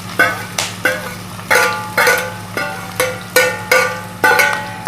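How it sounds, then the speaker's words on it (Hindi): Chopped onion fries in hot oil for an Achar Gosht, a soft sizzle running beneath about eight evenly spaced, ringing metallic clanks of a utensil striking the pan, close and fairly loud. "इसको फ्राई करेंगे, सिर्फ गोल्डन ब्राउन करना है।"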